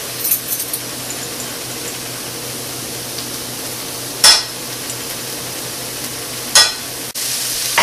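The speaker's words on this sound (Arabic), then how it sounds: "وطلع عندي صوت اللحمه بتتقلى مع الزيت" Ground beef frying in oil for pastitsio gives a steady low sizzle close by, with two sharp scrapes of a spoon stirring the pan against the bubbling.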